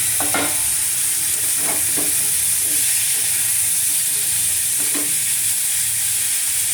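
Spices sauté in a pan over a low gas flame for a vegetable curry, sizzling steadily. A spoon stirs now and then with soft scraping strokes, and no one talks.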